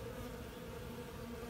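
Honeybees buzz continuously around a hive fitted with a robber screen in Locust, North Carolina, a dense steady drone close by with no voices.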